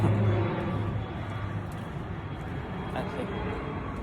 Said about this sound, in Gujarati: પાછું પ્લેન ચાલ્યું કઈ કંપનીનું હે જણાવો